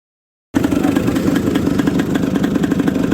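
Vintage racing motorcycles run together at a muddy raceway, a steady loud engine drone with idling and light revving beginning abruptly after a brief silence and continuing without talk.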